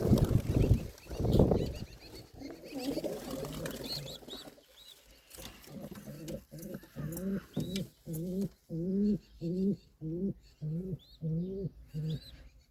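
Pigeons coo in a steady, repeating rhythm of soft throaty calls, close by, after a few seconds of rustling and background noise.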